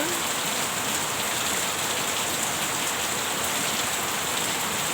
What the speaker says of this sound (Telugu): చూడండి ఎంత పెద్ద వర్షం పడుతుందో సడన్గా